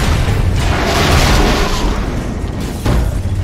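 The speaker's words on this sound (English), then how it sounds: "Possible laboratory break-in confirmed by big explosion." Big explosion in LEGO Marvel Super Heroes during a laboratory break-in: a loud, sustained rumbling blast with a second sharp burst near the end, no voices.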